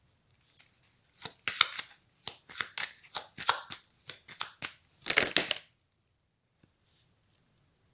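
Tarot cards shuffled and drawn by hand, a rapid run of crisp, papery riffling bursts lasting about five seconds, close and clear, then a few faint taps in near silence.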